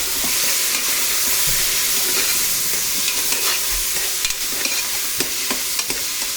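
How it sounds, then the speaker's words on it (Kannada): Peas frying in a pan for palav give off a loud, steady sizzle close by, with stirring scrapes and clinks over it throughout. "ಹಾಕಿ ಅದನ್ನು ಫ್ರೈ ಮಾಡಬೇಕು."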